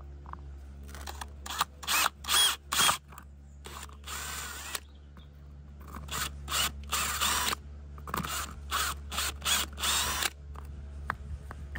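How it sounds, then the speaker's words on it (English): Cone bit drilling into a plastic box for a security light fitting, several short whirring bursts of a few seconds each, close and fairly loud, with pauses between runs. "So I'm just using one of these cone bits. Much better at going into plastic boxes than anything else."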